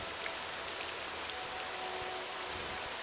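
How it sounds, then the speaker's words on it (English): Steady rain falling in the video game Morrowind, a constant soft hiss with no gaps or individual drops standing out, filling the whole stretch evenly at a moderate, distant level. "It's raining."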